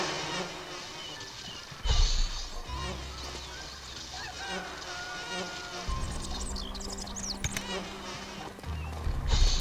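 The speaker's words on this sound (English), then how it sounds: "make sure it goes underneath that insect thing to kill all the bees." Buzzing bees in the Shrek 2 video game on Jack and Jill's farm level, a steady droning insect hum running throughout under game music and effects, with a few louder thumps along the way.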